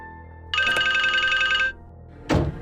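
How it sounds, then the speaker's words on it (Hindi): An electronic phone ringtone plays a bright, repeating melody for about a second, then cuts off, followed by a short rustling thump. "लो, फिर से आपके बेटे का फोन आ गया।"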